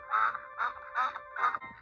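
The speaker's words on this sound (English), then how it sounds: "the duck continued to quack and swoon all around Duck" A duck quacks four times in an even, nasal rhythm, each call short and clear at moderate distance with nothing else around it.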